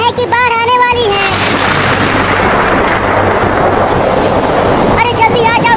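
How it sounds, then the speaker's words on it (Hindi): Cartoon thunder rolls through a village storm with lightning as a long, loud, rumbling roar between stretches of animated character voices at the start and end. "बादल गरज रहा है और बिजली भी गिर रही है।"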